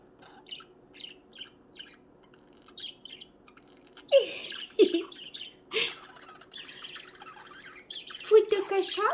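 Pet budgies chirp and squawk in short, scattered bursts, some soft and some sharp, with a person talking nearby between the calls.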